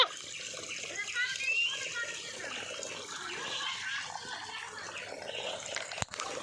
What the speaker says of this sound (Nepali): यहाँबाट पानी छाप्ने